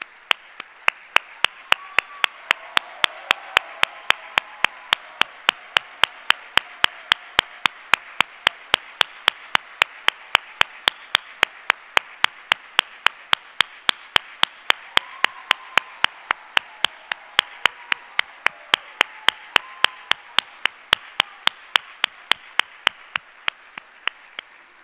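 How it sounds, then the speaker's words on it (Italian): Evenly spaced sharp claps repeat steadily through the whole stretch, like an audience clapping hands in welcome for guests at an evening event, with no talking over it. "Per loro un applauso."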